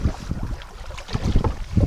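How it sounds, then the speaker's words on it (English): Gusting wind buffeting the microphone while canoeing on a lake in Quetico Provincial Park: steady, close, blustery rumble rising and falling in short surges, with no talking. "this little gust of wind, I can paddle through it"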